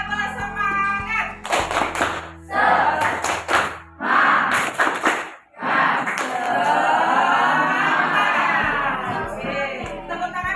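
Students in a school counselling session perform a rhythmic spirit clap, bursts of patterned hand claps and taps repeated in groups, with a voice leading between rounds and sustained chatter later.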